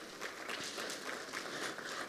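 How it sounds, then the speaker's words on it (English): Audience applause at a stakeholder engagement forum, a brief patter of clapping from a crowd at moderate distance, steady and fairly quiet over about two seconds. "Can we please give her a huge round of applause?"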